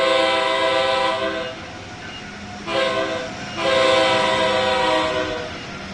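An Amtrak Acela Express pulls away from Route 128 station in Train Sim World 3, its horn sounding in long sustained blasts over a rumbling rolling hum.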